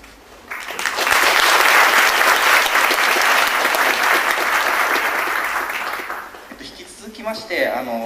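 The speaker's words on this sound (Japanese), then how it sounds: "拍手で終わりたいというふうに思います。" An audience at the close of an urban data symposium session bursts into sustained, loud applause that swells, holds, then tapers off before a voice begins speaking.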